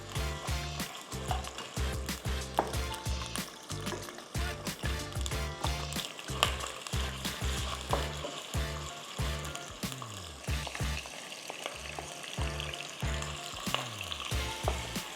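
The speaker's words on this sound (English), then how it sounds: "browning our meat now, along with a little bit of salt in this, in olive oil and bay leaves" Mince sizzles and crackles steadily as it browns in olive oil with bay leaves and a little salt for a Bolognese lasagna. The frying is continuous and close, with occasional stirring scrapes and no talk.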